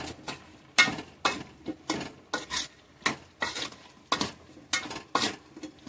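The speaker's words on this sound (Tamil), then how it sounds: "கொஞ்சம் மஞ்சள் பொடி போட்டுக்கணும் ஃப்ரெண்ட்ஸ் அந்த கிளறி விட்டுக்கிடுவோம்" A spoon scrapes rhythmically around a pot as turmeric powder is stirred into dried sala fish curry, about a dozen close, regular strokes over a faint sizzle.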